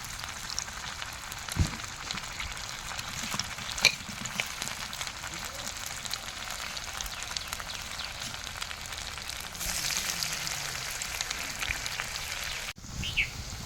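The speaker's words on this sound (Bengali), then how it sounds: "এই গরম তেলের মধ্যে ছেড়ে দেব।" Breadcrumb-coated shrimp chops fry in hot oil with a soft, steady crackle that swells briefly near the end, plus faint background sounds and no speech.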